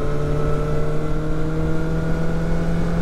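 A BMW S1000R Sport motorcycle pulls hard in sixth gear, its engine holding a loud, steady whining drone with a sustained tone, heard up close over wind rush and without any talking.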